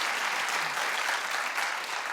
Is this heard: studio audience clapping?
yes